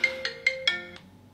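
A phone ringtone plays a short, bright electronic melody of about five quick repeating notes, close and clear, with nothing else over it.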